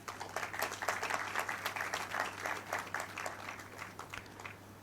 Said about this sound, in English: Please applaud his efforts.